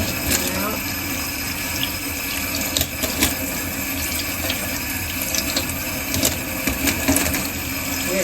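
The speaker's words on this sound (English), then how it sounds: "We have to wash these off thoroughly and take a look at them when they're dry." Running water pours steadily from a tap over tumbled jasper stones in a sink as they are rinsed, a continuous close splashing rush lasting throughout.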